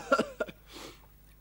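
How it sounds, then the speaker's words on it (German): A man gives a short burst of two or three dry coughs, close and fairly loud, followed by a softer breathy exhale, in a stage play performance. "Seit wann hustet er?"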